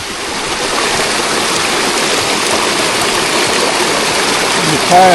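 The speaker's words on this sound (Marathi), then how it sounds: "पाण्याचा प्रवाह" Mountain stream rushing steadily during a monsoon trek on the Rajgad to Raigad range, a continuous broadband wash of flowing water with no breaks, loud and close throughout.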